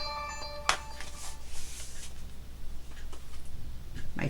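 A mobile phone rings briefly indoors, with a quick run of electronic tonal notes at the start, followed by faint rustling and room noise.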